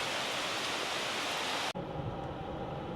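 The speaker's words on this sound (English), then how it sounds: "The rain's getting harder, so we're just gonna get wetter." Heavy rain near Stumphouse Tunnel and Issaqueena Falls in Walhalla, South Carolina, pours down as a dense, steady hiss that cuts off abruptly partway through to a quieter wash, with no talking.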